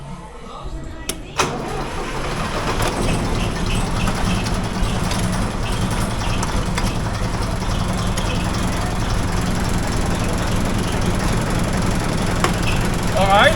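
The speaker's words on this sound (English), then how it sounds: "So let's get it started and shift some gears." An International 423 tractor engine starts with a short crank, then runs at a steady loud close drone while gears are shifted, with speech heard over it.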